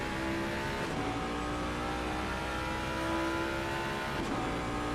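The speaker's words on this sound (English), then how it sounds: "Formidable sound there from that engine." A race car engine revs in a sustained high-pitched whine at the Spa circuit, steady and fairly distant, with gear shifts briefly breaking the tone and no talk over it.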